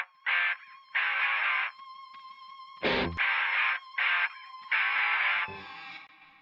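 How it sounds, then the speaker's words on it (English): Electric guitar intro played through a narrow telephone-style filter effect, thin, band-limited bursts of chords and notes in short phrases with gaps between them. "So they are getting this little telephone effect that's happening in the intro"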